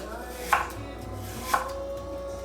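Two separate chops of a knife through apple on a cutting board, sharp thuds about a second apart against a quiet kitchen background.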